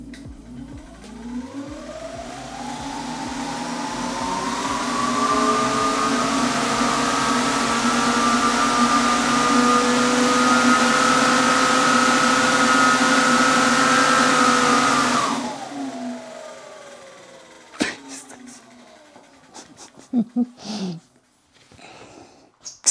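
Nanrobot LS7+ electric scooter motor running in turbo mode with dual drive in third gear, a loud rising whine that climbs then holds steady before cutting off, followed by a few clicks and knocks.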